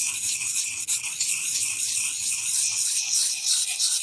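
A knife blade being sharpened with a sharpening puck held flat against the grind, a continuous close, bright abrasive rasping that scrapes steadily along the steel.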